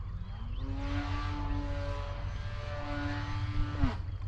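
An E-flite Turbo Timber Evolution RC plane buzzes overhead, its electric-driven propeller whining steadily with pitch sweeps as it maneuvers through a spin, then drops sharply as power cuts near the end.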